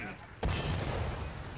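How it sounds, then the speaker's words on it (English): A tank's ammo rack explodes in War Thunder with a sudden heavy blast that cuts through a quiet moment and leaves a rolling, crackling roar trailing off afterward. "О, как взрывается боеукладка"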